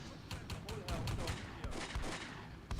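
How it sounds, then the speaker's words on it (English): Repeated gunfire from a WWII tank battle in the game Combat Mission: Beyond Overlord, Germans against British, with sharp shots striking in an irregular run over dense battlefield rumble, fairly loud and close. "He's just shooting him in one spot"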